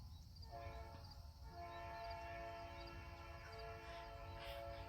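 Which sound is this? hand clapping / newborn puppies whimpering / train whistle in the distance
train whistle in the distance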